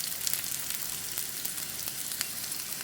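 Sliced shallots and curry leaves frying in hot oil for a tempering to go into a bilimbi prawn curry: a steady close sizzle with faint pops and crackles throughout, no voices.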